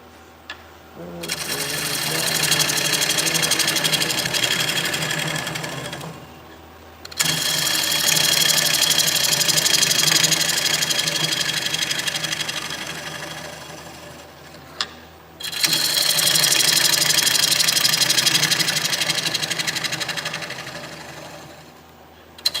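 A wood lathe turning a wooden bowl, heard as three long, loud, steady whirring and scraping passes separated by short pauses, close to the listener.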